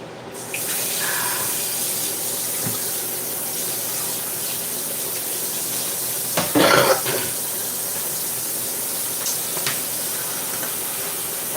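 Water runs steadily from a household tap into a sink as a continuous hiss, with a brief, louder gush partway through and no talking.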